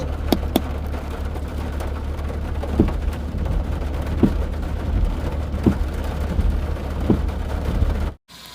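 Steady heavy rain pours down continuously, with a few brief sharper spatters and distant rumbles; no voices, ending abruptly.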